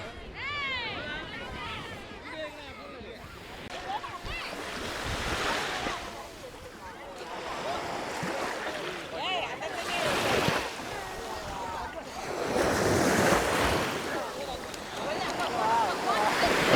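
Sea waves at Ariyaman beach roll in and wash ashore in repeated swelling surges, mixed with wind buffeting the microphone and distant crowd chatter, while someone talks throughout.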